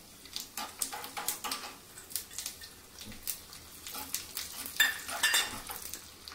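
Urad dal dropped into hot oil for a tempering, after mustard seeds have crackled, for green peas idli: light sizzling with a series of sharp crackles and spoon scrapes against the pan.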